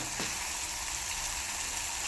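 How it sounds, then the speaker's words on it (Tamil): Steady loud sizzling of tomatoes sautéing in a frying pan for egg curry, a continuous crackling hiss with no talk. "தக்காளி வந்து நல்லா வதங்கணும்."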